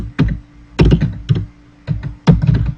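Typing on a computer keyboard while entering a search on a Windows PC, several short bursts of clacking keystrokes with pauses between them, close and clear, no voice.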